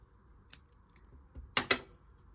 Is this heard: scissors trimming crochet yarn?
yes